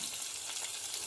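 Garlic fries in hot oil, a brief, steady, fairly quiet sizzle with no other sounds.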